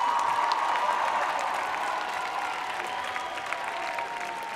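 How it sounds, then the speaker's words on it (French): Audience applauding team captains at a sports gathering, steady clapping from a sizable crowd that slowly thins out over several seconds. "Est-ce qu'on peut applaudir tous les capitaines de toutes les équipes,"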